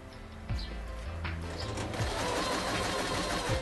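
Kreshay sewing machine stitching in reverse, a steady fast mechanical whirr with regular needle clatter running continuously and close, no voices.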